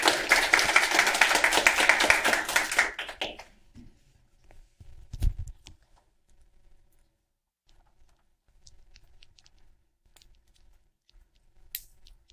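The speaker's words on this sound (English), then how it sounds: "Clap and welcome Dr." An audience claps to welcome a speaker at a talk. A dense burst of applause lasts about three seconds and cuts off into near silence, broken by a few faint knocks and rustles.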